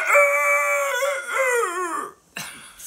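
An old rooster gives one long, loud crow with a wavering, drawn-out ending, followed by a short, rougher cry.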